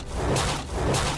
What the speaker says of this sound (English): Did you just shoot air at me?